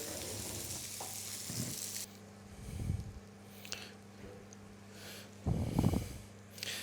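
Steak sauce reheating in a pan, with bursts of sizzling and bubbling that flare up loudly then settle to a quieter simmer, alongside a low steady hum in a kitchen.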